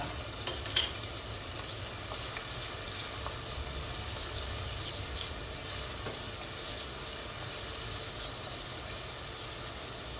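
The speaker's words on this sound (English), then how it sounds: "Just saute some onions or fry some onions." Onions sautéing in a pan for a meatless Efo Riro, giving a soft, steady sizzle with occasional stirring scrapes, fairly quiet and continuous with no talking.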